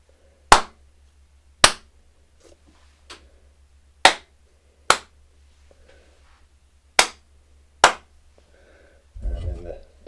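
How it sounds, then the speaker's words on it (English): Sharp single hand claps, seven of them spaced about a second apart, each followed by a short ringing room echo while testing a room's acoustics; a voice starts speaking at the end. "we can try the clap test and we'll see if it has any less echo"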